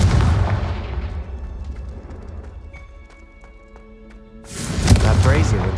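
A Confringo spell explosion in the video game Hogwarts Legacy, a loud booming blast with a decaying rumble at the start and another forceful burst near the end, with a voice speaking.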